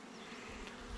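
Honey bees buzzing steadily around hives set beside linden trees at an apiary platform in late June, a dense continuous hum at close range.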